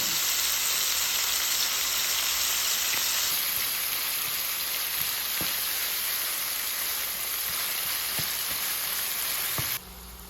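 Beef sizzling and frying in a pan for a taco salad, a steady dense crackle with occasional pops and stirring clicks, close and continuous with no talking.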